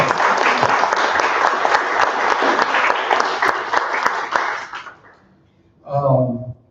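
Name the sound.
audience applause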